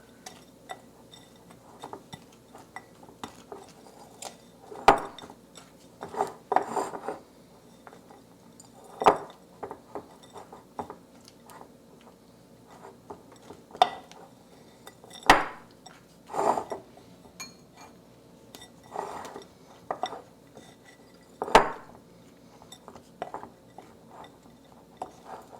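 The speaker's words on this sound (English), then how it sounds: "add my sauteed vegetables. I'm going to mix this all together." Vegetables and cheese stirred together in a pan for stuffed mushrooms, producing irregular scrapes and light clinks of utensil on cookware at a moderate distance, with quiet pauses between strokes and no talking.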